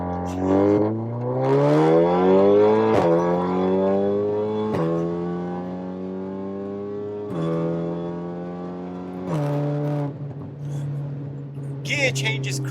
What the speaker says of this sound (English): this is possibly the loudest car that we've had on our channel